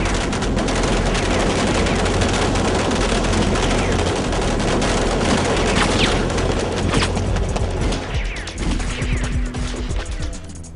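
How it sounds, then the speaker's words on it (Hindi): A loud, sustained volley of gunfire in a movie, many guns firing together in dense overlapping bursts that fill nearly eleven seconds before thinning out near the end. "सब एक साथ फायर करो।"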